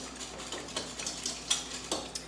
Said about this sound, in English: I'm going to go ahead and whisk this together.